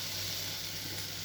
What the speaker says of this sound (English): Can you hear the sizzling of the onions and the peppers?